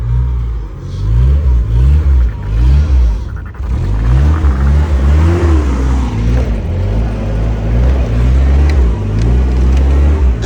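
Old 1980s two-wheel-drive pickup truck engine revving loudly up close, a deep rumbling roar that surges and falls in repeated pulses with a rising whine partway through.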